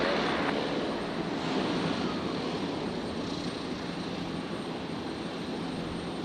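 A Qantas airliner lands on runway 01 right at Brisbane International Airport at night, its engines giving a loud, steady broadband roar that stays close and unbroken throughout.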